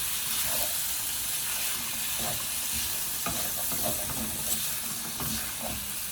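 Green beans being stir-fried in a pan for pancit, a steady sizzle with repeated scraping and stirring strokes running evenly throughout, close and moderately loud, with a single brief spoken word.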